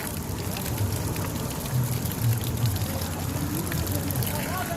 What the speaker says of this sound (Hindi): यानी कि पहाड़ के बीच में से पानी आ रहा है